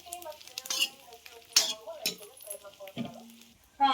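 Curry leaves stirred and frying in a pan, with sparse clinks of a metal spoon against the pan over a light sizzle, close and fairly clear, with a few short bright scrapes and no talk.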